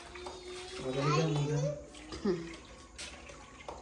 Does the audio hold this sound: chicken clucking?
no